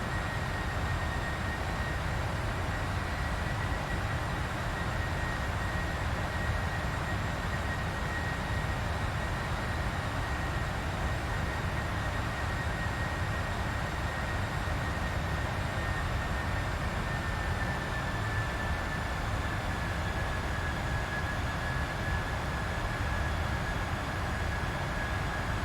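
Boeing 747-400 engines in flight in the PMDG flight simulator, levelling off near 10,000 feet: a steady, loud broadband roar with a constant high whine running through it, unchanging and with no talk.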